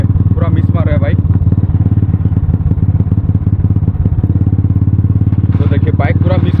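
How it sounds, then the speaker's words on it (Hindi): A Royal Enfield Classic motorcycle idles with an uneven, stumbling beat as the engine misfires, loud and close, with a couple of revving bursts at the start and end. "देखिए देखिए सुनिए, पूरा मिस मार रहा है बाइक।"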